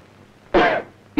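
Coughing in a Malayalam action movie scene, one sharp throaty cough followed by a second short cough, close and alone against quiet.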